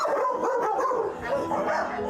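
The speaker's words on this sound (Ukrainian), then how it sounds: "Хороший собака, да?" A dog gives a run of short yips and barks nearby, with faint voices murmuring underneath.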